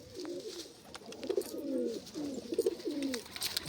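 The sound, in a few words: pigeons cooing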